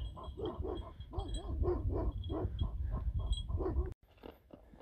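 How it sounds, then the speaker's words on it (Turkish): Turkish shepherd dogs guarding a sheep flock bark in a rapid, repeated series of close, loud barks and yips, with a brief sharp break near the end before quieter barking resumes. "Bakın köpekler bayağı yaklaştı buraya."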